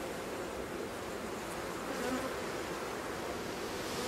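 Honeybees buzz densely and continuously around an opened beehive frame after swarming, a close, steady hum filling the space without pause.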